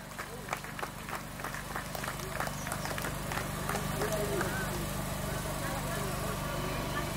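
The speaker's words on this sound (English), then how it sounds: "Can we have a round of applause for a wellness partner?" Scattered clapping from an outdoor crowd at a 5K charity run on Necklace Road, Hyderabad, over steady background noise, with an announcer's amplified voice nearby.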